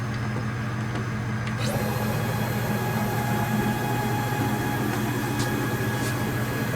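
A CNC router cuts a Jackson Flying V guitar body template with a loud, continuous mechanical whine, and a high tone rises in pitch early on and then holds steady.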